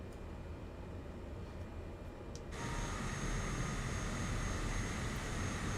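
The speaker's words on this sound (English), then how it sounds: "As the engine is warming." A Caravan aircraft's engine warms up on the ground in a flight simulator, a steady broadband roar that steps up noticeably louder partway through and then holds constant.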